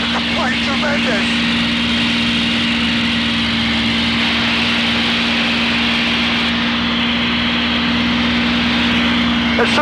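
Supermarine Spitfire with a Merlin engine in flight, a loud, steady droning engine roar with a constant hum filling the whole clip, heard from inside the aircraft, with a voice talking over it.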